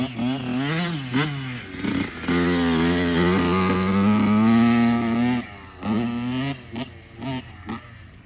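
Kawasaki KX dirt bike after a rebuild, running with freshly packed muffler: a loud, close engine that holds a steady drone and revs between throttle blips, with no talk.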